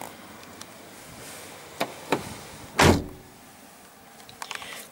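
Power windows on a 2010 Toyota LandCruiser GXL V8 running, a few short motor whirs and clicks ending in one louder, longer window travel, then faint clunks inside a quiet cabin.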